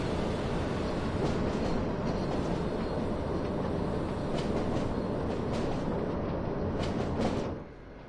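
A passenger train rolls past near Hagen in the Ruhr area of Train Sim World 2, a steady loud rumble of wheels and rail noise with a few clattering bursts that fades at the end, with no talk.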